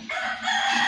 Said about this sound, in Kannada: ಇದು ಯಾವುದೋ ಕೋಳಿ ಕೂಗ್ತದೆ ಇಷ್ಟೊತ್ತಲ್ಲಿ